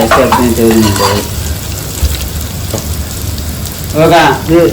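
Green chillies and onion sizzle and crackle in a hot pan for a drumstick fry, a steady bright frying hiss with stirring, while voices talk over it at the start and end.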